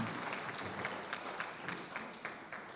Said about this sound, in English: so a round of applause is much nicer